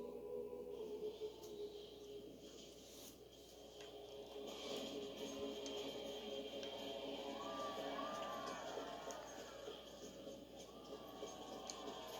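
A crowd in the video game Fable 3 cheers and shouts over a low background hum, a continuous, fairly faint swell of many voices with a few whoops rising partway through.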